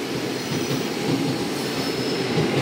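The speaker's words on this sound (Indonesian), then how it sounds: "Begitu juga di jalur 5 ini ada kereta nih." A KRL commuter train rumbles steadily at a station platform, a loud continuous roar of wheels and motors with faint squeal, heard near and without talk.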